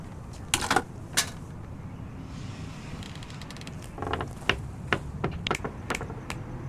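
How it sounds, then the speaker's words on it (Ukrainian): A key turns in a lock in the video game Hello Neighbor, giving sharp metallic clicks and rattles: a couple of isolated ticks early, then a denser run of quick clicks near the end. There is no speech. "Піднімаємо ключ та відкриваємо замок."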